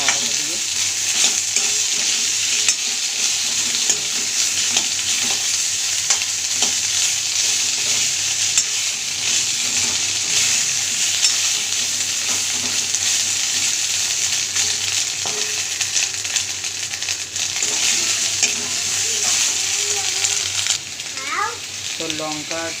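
Ginger paste fries in a hot pan while being stirred for a potato and chickpea dish, giving a loud, continuous sizzle with scraping stir strokes that hold steady throughout.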